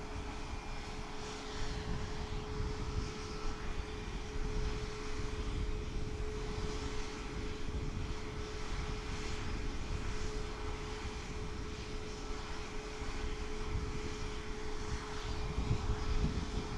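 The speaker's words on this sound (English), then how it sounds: "Smart Wings flight 7333 is heading off to Warsaw on a 737 MAX 8." A Boeing 737 MAX 8 airliner operated by Smart Wings departs Lanzarote Airport for Warsaw, with a steady, loud jet engine roar throughout that holds constant without speech.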